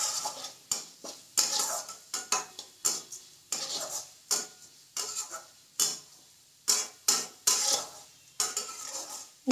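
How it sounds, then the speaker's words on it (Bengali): Moong dal being stirred and lightly fried in hot oil in a pot, heard as a steady series of spoon scrapes and clinks against the metal, roughly two per second, close and fairly loud with no talking. "তেল গরম করে তেলের মধ্যে মুগের ডালটা একটু ভেজে নিচ্ছি"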